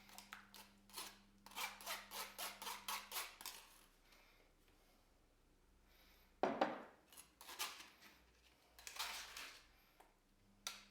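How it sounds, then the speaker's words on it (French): Lemons are scrubbed by hand in a bowl of water, giving bursts of wet rubbing and squeaky friction in quick rhythmic strokes, close and fairly quiet, with pauses between. "Une fois les citrons bien frottés, on les essore bien et on les sort du récipient."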